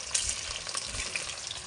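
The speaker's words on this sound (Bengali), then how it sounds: "এরকম করে মাংসগুলো সব তেলের মধ্যে পকোড়ার মতো ভেজে নিতে হবে।" Chicken pieces for chili chicken deep-frying in hot oil like pakoras, a steady dense crackling sizzle that holds close and even throughout without a break.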